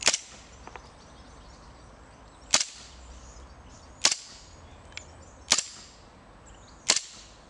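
Five sharp semi-auto shots from an HFC M9 Beretta gas blowback airsoft pistol, each a crisp snap with slide clack, spaced about one and a half seconds apart, loud and close with no talk.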